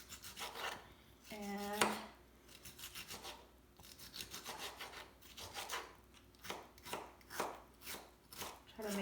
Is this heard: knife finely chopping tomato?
yes